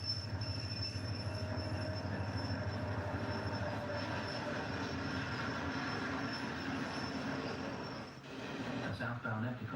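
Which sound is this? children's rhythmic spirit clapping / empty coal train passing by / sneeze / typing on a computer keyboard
empty coal train passing by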